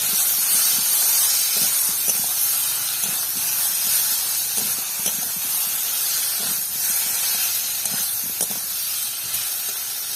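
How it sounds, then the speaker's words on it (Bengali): Potatoes and spice paste stirred in a hot pan, a loud steady frying hiss with faint scraping strokes of a spatula scattered through it, close up and without talk. "আলুর সঙ্গে মশলাটাকে কিছুক্ষণ নেড়ে নেব।"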